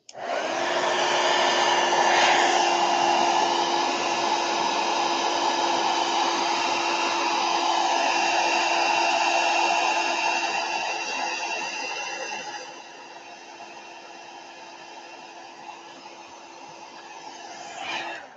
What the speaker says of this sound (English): All right, heat gun.